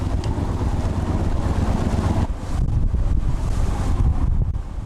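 Strong wind buffets a small fishing boat off rocky islands, with heavy gusting roar, microphone buffeting and churning waves, continuous and loud with no voices.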